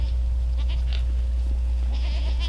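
Goats bleating while running on a farm, a few short nasal bleats rising over a loud, steady low rumble of wind or handling noise, calls scattered and moderately near.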